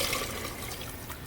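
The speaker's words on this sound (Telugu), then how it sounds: "కొంచెం వాటర్ వేసి" Water is poured into a cooking pot with tamarind pulp, a steady close splashing rush that lasts the whole brief moment without talk.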